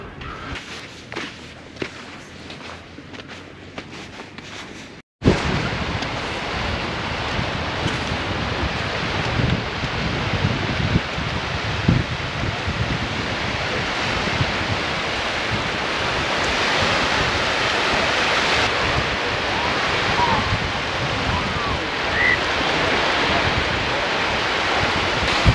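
Sea waves and wind at the seaside: a short quieter stretch, then a sudden cut into loud, steady surf roar mixed with gusting wind buffeting the microphone, continuing without pause.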